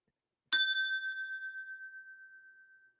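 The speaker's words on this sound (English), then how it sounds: "I hit that bell every time there is some truth out there" One bell struck once, a bright clear ding that rings out and slowly fades with a gentle pulsing shimmer over a few seconds, close and heard alone against silence.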